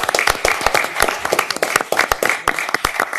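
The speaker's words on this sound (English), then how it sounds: "let's give all of them a round of applause" An audience claps in a burst of applause at an African American heritage celebration, dense close clapping throughout the short stretch.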